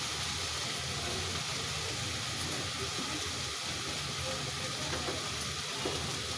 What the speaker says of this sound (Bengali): দেখুন মশলাটা ভাজা হয়েছে, আদা রসুন পেস্ট